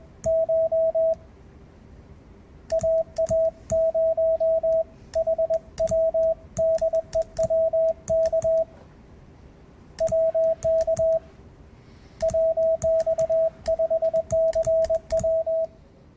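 A single steady CW Morse code tone keys on and off in bursts of dots and dashes, clear and unbroken by talk, with gaps between groups and faint clicks at each keying edge.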